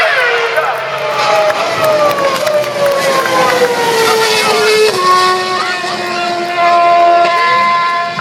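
An F1 car, a V8 supercar and a superbike racing down the front straight at the Top Gear Festival Sydney 2013: loud, high-pitched engine wails that sweep downward as they pass close by, continuous over a faint crowd.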